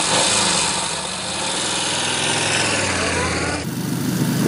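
A 2014 Yamaha XV 950 R Bolt motorcycle engine, a loud close low rumbling drone that holds steady and then rises in tone toward the end.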